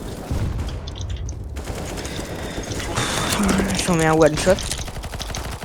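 Gunfire rattles in ranked Counter-Strike on Mirage, with short bursts and loud shots over steady game noise, while players talk in French over the action.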